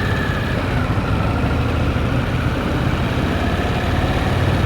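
Harley-Davidson Sportster S motorcycle engine running with the clutch held in, a steady loud low throbbing rumble that stays constant throughout with no voices.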